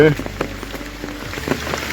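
Heavy rain pattering on surfaces in a forest on the Aadrai jungle trek, a dense steady hiss with scattered drop hits, while a person's voice breaks in briefly.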